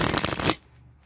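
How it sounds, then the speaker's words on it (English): A deck of Theory11 Star Wars Light Side playing cards is shuffled in a brief, dense burst of riffling flutter that stops abruptly after about half a second, close and clear with no talking. "I'm gonna go ahead and give the cards a shuffle."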